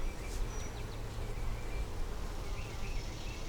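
A large swarm of bees hums steadily around a hive box holding a split taken from it, a dense, continuous buzz close to the microphone with no voices.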